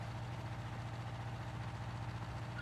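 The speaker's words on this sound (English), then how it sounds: "This tractor can really pull this plow." A tractor engine pulls a plow in a farming video game, giving a steady, low, droning hum that holds even and unbroken throughout at moderate level.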